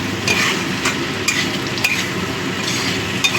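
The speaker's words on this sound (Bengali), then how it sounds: "পেঁয়াজ আর আলুটা ভালো মতো ভাজা হয়ে গেছে, এবার আমি দিয়ে দিচ্ছি টমেটো কুচি" Chopped tomato and green chilli stirred into onion and potato frying in a pan for kachki fish charchori, a close steady sizzle with repeated scraping stirs and light metallic clinks of the spatula.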